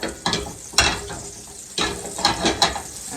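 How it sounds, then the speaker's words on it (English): Food sautés in a pan with a soft steady sizzle, broken by several sharp scrapes and clatters of a utensil stirring against the pan, close and moderately quiet. "I'm gonna saute it"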